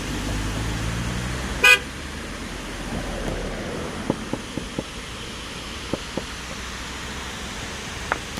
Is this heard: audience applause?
no